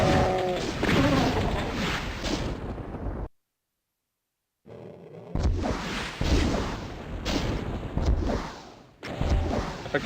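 Gunfire in a video game rattles out in dense, loud bursts of blasts and crashes, breaking off into a second of near silence before the shooting resumes just as heavily.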